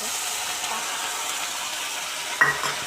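Onions fry in a pan with a soft continuous sizzle, and a spoon scrapes and stirs them near the end, close and fairly quiet.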